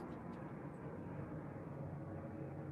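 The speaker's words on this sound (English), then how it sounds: "And I realized there's a plane going overhead." A fixed-wing airplane passing overhead, a steady low broadband rumble that holds evenly throughout at a fairly faint, distant level.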